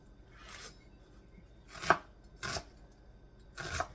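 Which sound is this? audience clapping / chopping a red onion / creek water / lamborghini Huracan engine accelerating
chopping a red onion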